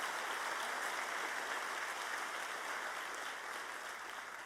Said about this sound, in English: I would really like to everyone give Dr. Hoyt a round of applause.